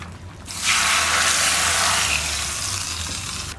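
Onion and dried chili tempering poured into a pot of boiling broth for a country chicken bone soup, a loud sizzling gush that rises sharply and holds steady for a few seconds with no talk.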